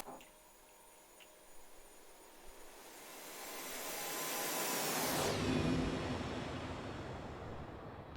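An ERJ-145 jet flies by in a flight simulator game, a roaring whoosh that swells over several seconds, peaks, then drops abruptly in pitch as it passes and fades into a lower rumble.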